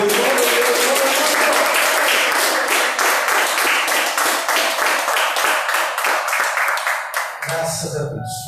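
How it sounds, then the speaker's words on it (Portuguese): A church congregation applauds during an evening service, dense sustained clapping close and loud throughout, fading toward the end as a voice begins speaking over the thinning claps. "Quem crê, aplauda Ele nessa noite."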